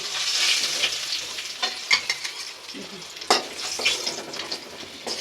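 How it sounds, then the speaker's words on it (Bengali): Hilsa fish heads fry in oil in a pan while being stirred, a close crackling sizzle broken by several sharp spatula scrapes and clatters, with no voices. "মুড়োগুলো ভাজা হয়ে গেছে"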